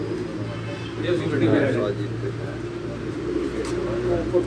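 Purebred pigeons at a flying competition coo softly, a steady low murmur running throughout alongside a constant low hum, with occasional brighter chirps above.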